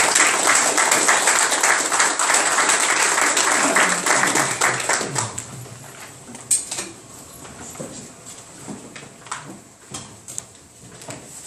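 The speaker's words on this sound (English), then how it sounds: "So let's give David and his staff a round of applause." Audience applause at a Kaufman County Commissioners Court meeting, a dense burst of clapping for about five seconds that then thins into scattered claps and room noise.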